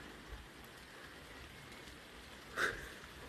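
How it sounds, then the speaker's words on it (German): Rain falls steadily at an outdoor horse riding arena, a faint, even patter across the whole stretch, with one brief louder rustle near the end. "Also es regnet nicht wenig, muss man auch dazu sagen."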